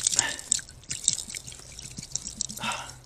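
Water trickling and dripping out of an embossed antique medicine bottle just dug from the ground, with irregular splashy drips and short pours, close by and alone.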